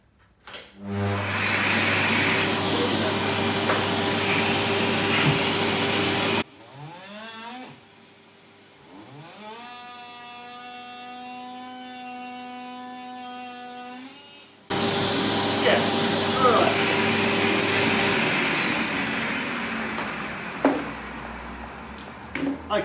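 Ryobi multitool cutting with a dust extractor running, a loud steady motor whine that drops out in the middle, where a rising whirring pitch is heard, then resumes at full volume.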